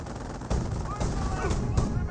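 Bolt-action rifle fire during a Company of Heroes battle between British and Panzer Elite forces: several sharp cracks spaced at roughly half-second intervals, set against a busy, dense backdrop of battlefield noise and commentary.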